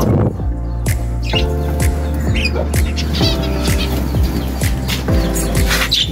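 Small birds chirping near a cage, with dense overlapping tweets and calls close by over a steady low hum and rhythmic mechanical thumping, loud throughout.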